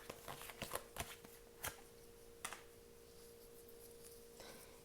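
Tarot cards being shuffled before another card is drawn: a quiet run of soft riffling clicks and brushes, clustered early and then sparser, close by with no talking.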